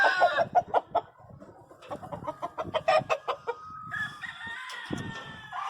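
A nearby rooster clucks in quick rhythmic bursts, then lets out a drawn-out crow toward the end.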